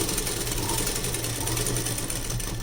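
A sewing machine stitches a net blouse with lining in a continuous, loud, fast-running buzz that carries steadily from start to finish.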